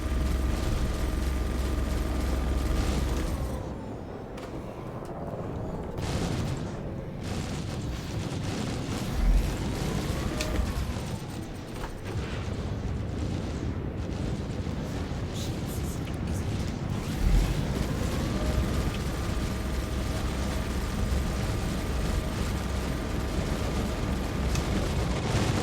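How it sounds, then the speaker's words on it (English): Missiles launching and detonating in the space game Star Citizen, a dense, continuous wash of rumbling blasts and engine roar with rising and falling tones, loud and sustained throughout with a voice talking over it. "Just fired 4 level 1 missiles just to mess with the damn thing."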